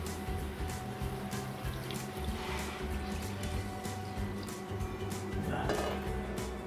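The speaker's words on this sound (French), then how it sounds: "une fois la poêle chaude, on va venir arroser avec le dashi, donc le bouillon japonais" Dashi, a Japanese broth, is poured into a hot pan of clams, giving a steady quiet splashing and sizzling pour that runs for several seconds, faint and alone.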